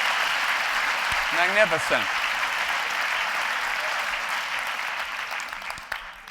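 Audience applause fills a lecture hall at the 92nd Street Y, steady and sustained throughout, with a brief spoken remark partway through.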